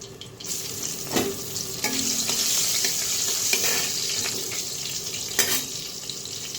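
Dried red chillies frying in the refined oil left from frying hilsa fish tails, a continuous close sizzle with scraping stirs and occasional sharp crackles, with no talking.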